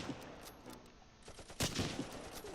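Gunfire in the Close Combat World War II strategy game near a town hall during the Battle of Belgorod, faint scattered shots with a sharper, louder burst partway through over a dull battle background.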